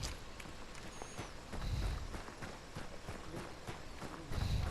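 A horse in the Hunt: Showdown video game gives a steady clip-clop of hooves with a faint alert whinny, heard at a moderate distance against quiet ambient background.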